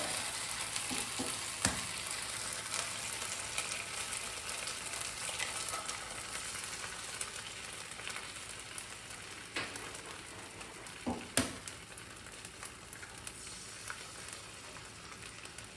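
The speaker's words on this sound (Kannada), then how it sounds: "2 ಮೊಟ್ಟೆ ಆದಮೇಲೆ ಹೈ ಫ್ಲೇಮ್ಗೆ ಇಟ್ಕೊಂಡು ಚೆನ್ನಾಗಿ ಹಿಂಗೆ ಸ್ಕ್ರ್ಯಾಂಬಲ್ ಮಾಡಿಬಿಡಿ" Two eggs are scrambled in a pan over high flame, giving a soft continuous sizzle with occasional scraping and clicking of the spatula against the pan, fairly quiet and without any voices.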